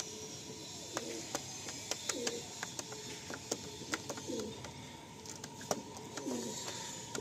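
Pigeons offered for sale coo softly in low, rounded bursts, mixed with sharp clicks and taps from the loft, with no talking.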